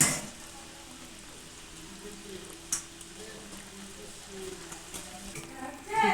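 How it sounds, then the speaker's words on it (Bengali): Fried bata fish go into a simmering curry of mixed vegetables on a gas stove, with a steady hissing bubble and sizzle throughout. A brief clink of utensils sounds midway, and the cooking noise swells again at the end. "ঝোলটা আমার ফুটে গেছে, এর মধ্যে ভাজা মাছগুলো দিয়ে দেবো।"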